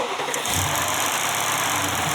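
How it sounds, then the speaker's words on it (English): A Mercedes GLS63 AMG V8 fires up after an oil top-up, a quick starter whir followed by a loud, close, deep engine roar that settles into a steady idle. "It is time to start her back up."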